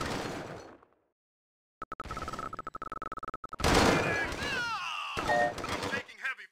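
Gunfire in a real-time strategy game, a rapid string of evenly spaced machine-gun shots followed by louder blasts, with unit voice lines speaking over the action.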